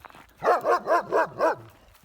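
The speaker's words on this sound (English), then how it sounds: "Mr. Big Doggy wants to give me goosebumps and scare me as I'm walking along" A dog barks five times in a quick, even series, loud and close, with no talking.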